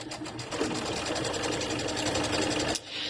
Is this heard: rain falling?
no